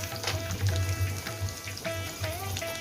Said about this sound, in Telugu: నూనె కొంచెం వేడెక్కిన తర్వాత కొంచెం ఆవాలు, కొంచెం జీలకర్ర, చిన్న ఉల్లిపాయ